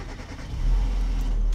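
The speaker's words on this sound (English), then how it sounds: "Yeah, turn the engine on." A car engine turns over and catches, a low rumble swelling about halfway through and then holding as a steady, close idle.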